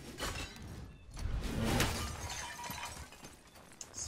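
A bucket smashes apart in the action game God of War, a rough crash and shattering rattle with breaking debris spread over several seconds, fairly faint and without speech.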